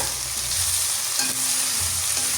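Curry masala sautéing with salt in a pan for a chicken curry gives a steady, close sizzle and crackle of frying, with faint stirring scrapes. No one talks.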